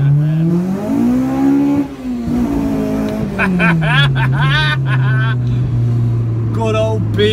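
Honda B18C engine in a DC2 hill-climb car revving hard, the pitch climbing and falling in sustained loud sweeps, with voices talking over the engine noise.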